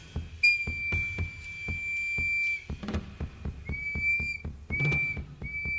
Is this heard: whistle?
yes